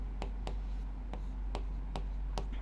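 Pen scratching out a maths solution for a linear-equations problem, six short, even strokes at a steady rhythm over a low, constant hum.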